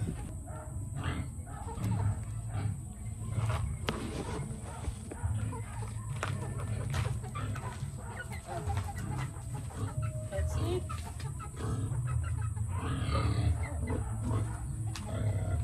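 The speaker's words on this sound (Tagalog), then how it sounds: "lalapit yung manok ko" Several chickens cluck and murmur nearby, and a person speaks briefly over the outdoor background noise.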